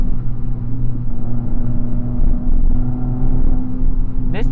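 Inside a Fiat 500 with a five-speed manual gearbox, the engine drones loud and steady through a downshift and a curve, with a humming rumble that shifts slightly in pitch.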